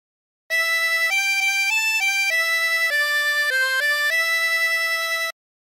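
Harmonica playing the Colorado Trail phrase, a slow sequence of sustained reedy blow and draw notes stepping up and down in pitch, clear and alone.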